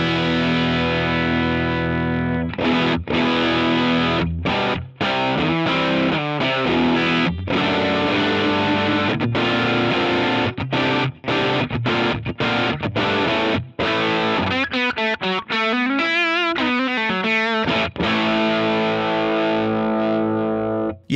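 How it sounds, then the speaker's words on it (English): Electric guitar through a Crowther Hotcake overdrive pedal with the presence control turned up, giving a driven, mid-heavy tone; loud, continuous chords and riffs with brief gaps, no talking. "So we're gonna start winding up the presence control, which I'm told is kind of like a mids control."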